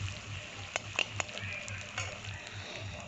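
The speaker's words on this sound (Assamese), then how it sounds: "এতিয়া ভালদৰে ভাজি ল'ম পিঁয়াজখিনি।" Chopped onions fry in oil with panch phoron, making a continuous gentle sizzle with a few sharp ticks and clinks of a spoon against the pan, heard close and fairly quiet.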